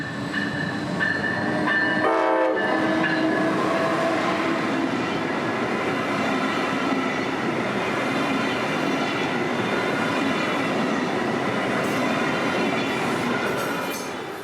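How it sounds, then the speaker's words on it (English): A Brightline passenger train roars past on Florida rail lines, a loud continuous rumble and rattle of wheels, with its horn sounding a short blast near the start over the steady passing noise. "the southbound showing off its horn"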